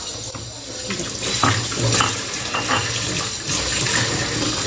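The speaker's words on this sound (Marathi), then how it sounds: "हात धुवायचा इथं धु नळाखाली" Steady rush of tap water running throughout, fairly close, with faint clinks and brief voices in the background.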